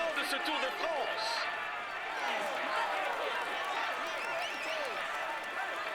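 Crowd applause and cheering for a rider on the Tour de France podium at Caen, a dense steady wash of clapping and shouts sustained throughout, with voices mixed in.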